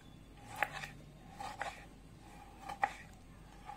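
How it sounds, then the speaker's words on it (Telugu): Tomatoes are chopped into small pieces with a knife on a board for a tomato pickle, three or four sparse, distinct chops with quiet pauses between them. "టమాటాలు చిన్న చిన్న ముక్కలు కట్ చేసుకోవాలండి"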